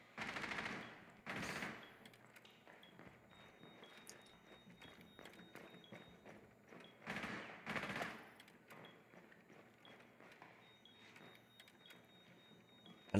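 Gunfire during a Rainbow Six Siege match: a few loud bursts near the start and around the eight-second mark, with quieter clatter and scattered shots in between.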